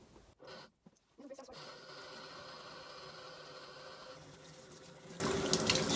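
Tap water running into a sink to rinse out a sweater, a steady close splash and hiss that grows louder and brighter near the end as the flow strengthens.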